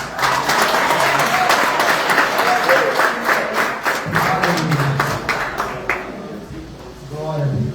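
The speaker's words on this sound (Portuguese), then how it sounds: "Vamos aplaudir Jesus?" A church congregation at an anniversary service claps together in dense, loud applause for several seconds, thinning out toward the end as a voice begins speaking over it.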